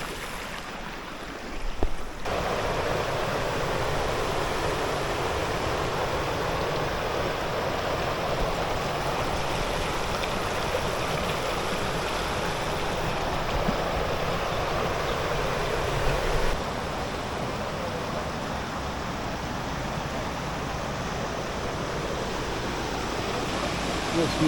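River water flowing into a small pool at Andrew Drynan Park, a steady, full rushing wash heard close up and continuing unbroken throughout.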